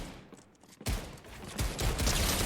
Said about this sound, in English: More shots coming in right now